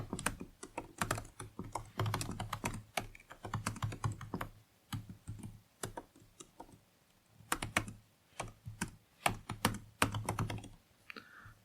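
Rapid clicking on a computer keyboard as someone types code during a C++ programming lecture on 2D arrays. Keystrokes come in uneven bursts with short pauses, close and clear with no talking.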